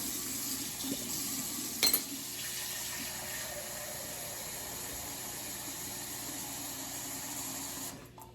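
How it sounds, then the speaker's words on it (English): Steady warm running water from a faucet for rinsing, a constant broad hiss filling the sink, with a brief clatter near the start before it cuts off at the end. "Give everything a good rinse. Make sure my water's warm."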